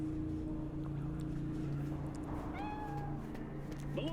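Cat in the Cyberpunk 2077 video game giving a couple of clear, rising meows late in the moment, heard over a steady ambient hum and music with no talking.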